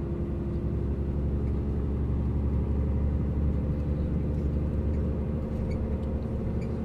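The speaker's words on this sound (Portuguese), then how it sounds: "Vamos acelerar o carro, motorista." A road vehicle's engine drones at a steady low rumble, loud and close from inside the moving car, with no rise or pause across the stretch.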